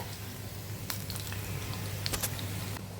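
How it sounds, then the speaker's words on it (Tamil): Egg manchurian pieces fry in hot oil with a steady, close sizzle broken by small crackles and pops, and no talking. "இந்த மாதிரி ஃப்ரை பண்ணி எடுத்துருங்க ரொம்ப ஃப்ரை ஆக தேவையில்லை"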